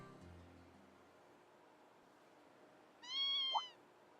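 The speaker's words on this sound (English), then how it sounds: "What's a kitten doing here?" A kitten meows once in the video game Trails of Cold Steel 2, a short, clear, rising-then-falling cry after several seconds of quiet game ambience.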